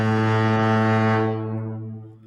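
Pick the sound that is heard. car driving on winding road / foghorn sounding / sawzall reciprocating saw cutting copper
foghorn sounding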